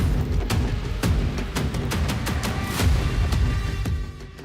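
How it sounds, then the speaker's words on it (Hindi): Repeated heavy booms and sharp blasts of an Israeli missile strike in Nuseirat, Gaza, over a constant roar of rumbling noise, loud and chaotic, with impacts landing every half second or so. "इजरायली मिसाइल का धमाका कितना जबरदस्त है।"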